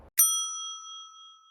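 A single bright notification bell ding strikes once after a brief moment of low noise, then rings out with a clear sustained metallic tone that slowly fades.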